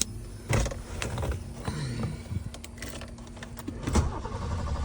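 A BMW E30 engine cranking and then firing up after an ignition switch replacement, with clicks and rattles from the key and starter before the engine settles into a steady idle.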